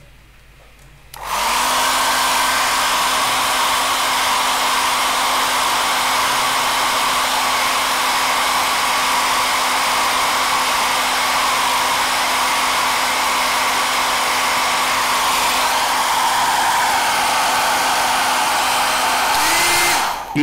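A hair dryer blows steadily to dry paint on a workbench, switching on with a loud constant roar that holds for about nineteen seconds before cutting off, alone with no voices.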